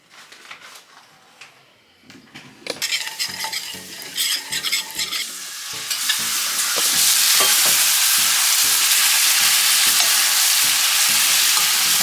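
Curry powder with garlic and ginger fries in a pot for Jamaican curry coconut shrimp, starting with scattered stirring scrapes and building into a loud, steady sizzle that fills the second half.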